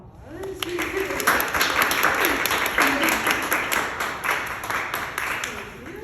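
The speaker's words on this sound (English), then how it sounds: "I'll just give all of them a round of applause." A reception crowd at an art exhibition applauds steadily throughout, a dense wash of clapping with voices and cheers rising over it.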